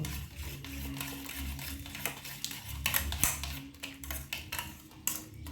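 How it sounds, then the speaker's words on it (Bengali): Raw eggs being beaten with chopped green chili and salt in a bowl, a busy run of quick clinking and scraping strokes, close and fairly steady, with a low hum underneath. "মিডিয়াম সাইজের লঙ্কা কুচি আর মতো লবণ দিয়ে দিলাম এবার একটু ফেটিয়ে নেব"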